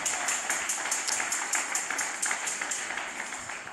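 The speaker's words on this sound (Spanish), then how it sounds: "Póngase sobre sus pies en esta noche, le fuertes palmas al Señor." A church congregation standing and clapping in a quick, steady rhythm, a bright, even patter of many hands holding at a constant level throughout.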